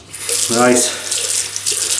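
Water runs from a tap onto a shaving brush in a close, steady splashing stream, with a short spoken word over it.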